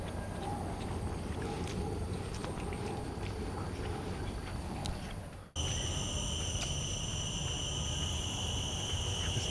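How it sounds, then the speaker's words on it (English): A dense, continuous insect drone fills the air in Singapore, then a brighter, louder shrill chorus of buzzing cicadas takes over midway. "Listen to the cicadas here."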